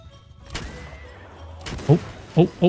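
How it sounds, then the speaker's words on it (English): Musket volleys fired by gun-armed mercenary monks in the video game Shokuho Bannerlord, three sharp reports near the end after a quiet buildup with a single earlier thump, fairly close and loud. "Oh, here it goes. Shots fired."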